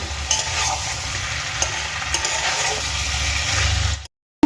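Potatoes, spices and raw green tomatoes fry in a pan for a Bengali fish curry, a loud continuous sizzle with stirring scrapes, ending in a brief cut to silence.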